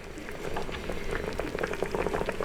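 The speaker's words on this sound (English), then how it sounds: "I'm going to put our third of a cup of wine in." A third of a cup of wine goes into a hot Power Pressure Cooker XL pot with short ribs and beef broth, producing a brief, close, vigorous bubbling and crackle with no voices.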